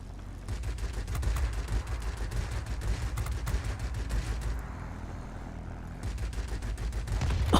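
A single nose gun on a Yak-3RD fighter plane in World of Warplanes firing long, rapid bursts, a steady rattling stream of shots over a droning engine.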